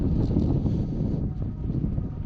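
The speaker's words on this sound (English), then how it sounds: "It's a foggy, windy, cold, rainy day" Steady, loud wind buffeting a microphone atop a fire tower on a foggy, cold, rainy day, a continuous low rumble with gusty swells and no speech.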